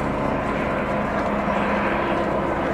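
A Westland Navy helicopter flies in and settles into a hover, giving a steady, loud, dense rotor and engine roar with no pauses.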